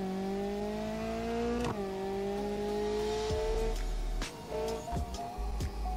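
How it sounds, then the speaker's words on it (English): A car in the BeamNG.drive racing game with a track DCT gearbox accelerates, its engine note rising in pitch through several quick gear shifts, loud and continuous with brief dips at each change. "And it accelerates pretty good."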